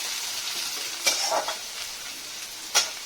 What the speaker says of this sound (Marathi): त्यानंतर कांदा चिरून घेतलेला चांगला परतून घ्यायचा आहे।